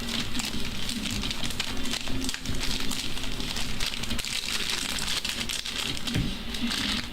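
A box of Sapphire trading cards is shuffled by hand, giving a continuous dry crinkling and flicking rustle with brief soft taps, close and fairly loud, while a voice murmurs faintly in the background.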